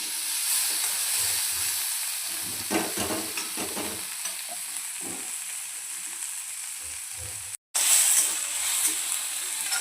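Tomatoes frying in a pan, a steady loud sizzle with occasional soft stirring scrapes, briefly cut out before resuming.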